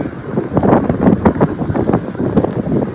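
Cool wind blows steadily outdoors just outside Coimbatore airport, a continuous buffeting rush over the microphone with gusty swells and no voices.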